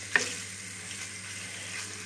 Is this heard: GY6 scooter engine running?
no